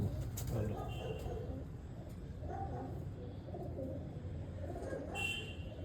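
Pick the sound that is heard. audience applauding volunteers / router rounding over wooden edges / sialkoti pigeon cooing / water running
sialkoti pigeon cooing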